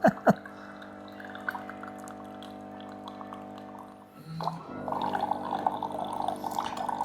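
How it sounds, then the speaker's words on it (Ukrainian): A Nivona 8107 coffee machine dispensing plain water into a glass, opening with a couple of clicks, then a steady motor hum, and a louder gurgling pour in the last few seconds. "Подача чистої води."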